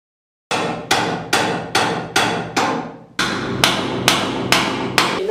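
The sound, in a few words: hammer hitting wall during renovation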